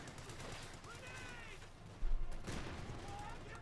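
A rifle grenade blast and gunfire in the Company of Heroes 2 strategy game, with a sharp impact about halfway through among scattered battle noise, under a caster's commentary.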